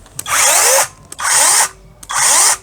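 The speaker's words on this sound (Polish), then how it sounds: "Pilarka jak najbardziej pracuje." A Dedra DED6984 cordless mini saw is run freely three times in quick succession. Each loud, high whine lasts under a second, with short pauses between the trigger pulls.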